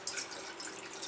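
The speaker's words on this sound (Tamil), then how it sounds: "அதுக்கு 4 கிளாஸ் தண்ணி ஊற்றுறேன்." A thin stream of water splashes steadily into a tea pot, close and quiet, with a bright, gurgling trickle throughout.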